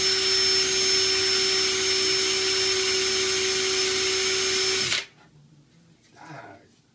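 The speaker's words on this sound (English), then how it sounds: "No, I can drill through plaster." A power drill bores into a plaster wall with a loud, steady high-pitched whine for about five seconds, then stops abruptly, followed by faint scraping and a brief voice.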